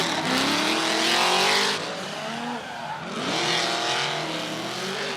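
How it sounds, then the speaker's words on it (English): A loud twin-supercharged V8 race car engine roars past, rising and falling in pitch as it accelerates, with a second car following close behind. "What a noise coming from that twin supercharged V8 under the bonnet of Brad Tuohy's car"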